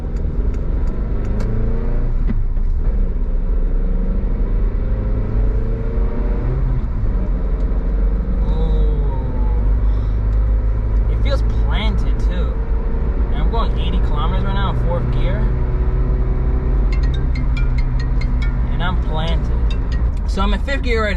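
A Daihatsu Terios cruises in fifth gear at about 70 km/h, a steady low engine and road rumble running throughout, with someone talking over it and some clicks and rattles inside the cabin.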